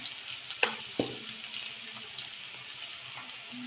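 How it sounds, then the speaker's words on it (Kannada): Beans palya cooking village style, a soft, fairly quiet frying hiss in a pan with a couple of knocks of a utensil early on and light scattered stirring clicks. "ಓಕೆ, ಫ್ರೈ ಆಗ್ತೈತಿ."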